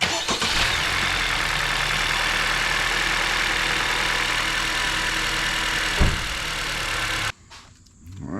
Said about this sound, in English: we will let engine run for 3 minutes